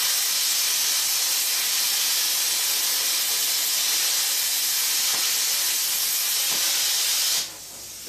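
A Cut 50 plasma cutter running off a small compressor cuts through a bolt with a loud, steady rushing hiss of air and arc that holds for about seven seconds, then cuts off abruptly to quiet.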